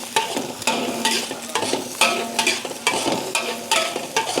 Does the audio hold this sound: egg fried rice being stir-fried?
yes